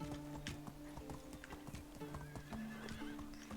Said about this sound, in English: She's a kind of gray horse with the spots.